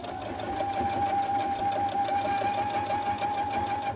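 A sewing machine stitches a 1/4 inch seam on a fabric book sleeve, its steady rapid whirring motor running loud and continuous throughout with no talk.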